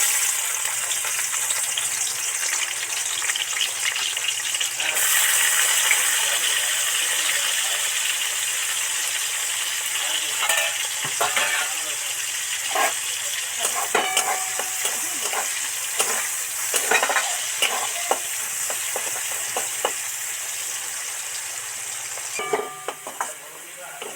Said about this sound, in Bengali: পেঁয়াজটা একটু ডিপ ফ্রাই করে ভেজে নেব